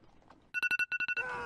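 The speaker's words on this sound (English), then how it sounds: "that's the Apple alarms they're very cringy" An Apple iPhone alarm goes off as a quick run of about eight sharp, evenly spaced electronic beeps leading into a brighter sustained chime, brief and fairly faint.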